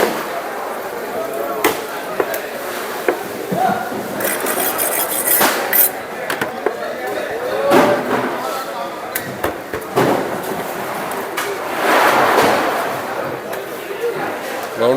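Fish being chopped into thick round pieces at a harbour, with repeated sharp knife and cleaver impacts on a cutting surface amid busy background clatter and people talking nearby.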